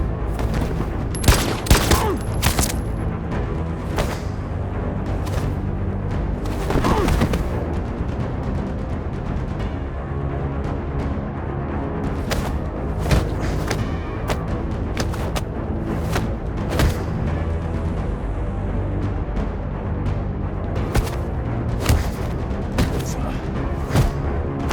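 Gunfire in the Detroit: Become Human video game: a dense fusillade of loud shots and booms over a sustained rumbling battle backdrop, with sharp bursts clustering near the start and recurring throughout.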